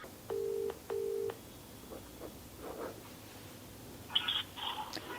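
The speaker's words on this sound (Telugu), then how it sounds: "ఓకే, నేను కాల్ చేస్తాను." Telephone keypad dialing: two sustained tones, then a cluster of shorter beeps a few seconds later, faint over steady line hiss.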